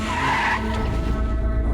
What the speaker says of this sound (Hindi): ये बहुत रैश गाड़ी चलाता है।